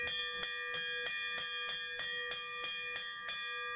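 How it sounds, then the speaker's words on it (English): A hand bell rings in quick, even strokes, about ten clear metallic dings ringing close and bright with no speech. "the sellout bell timer went off. I had to ring the bell"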